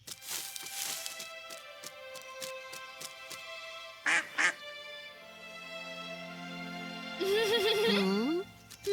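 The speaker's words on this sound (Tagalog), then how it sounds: "Isang maliit na pato lang pala." Cartoon-style duck quacks sound in short bursts among plucked musical notes, with a rising squeaky call near the end.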